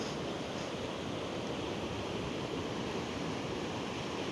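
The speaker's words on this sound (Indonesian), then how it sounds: "Ombaknya sudah mulai ganas ini nampaknya teman-teman." Surf breaking at a surf spot on Simeulue, a continuous broad roar of rough ocean waves with steady wind noise on the microphone, loud and unbroken with no voices.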